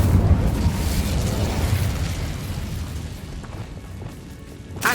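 A fire spell cast in the Hogwarts Legacy video game gives a loud, rumbling burst of flame that roars and slowly fades over several seconds, ending with a sharp crackle.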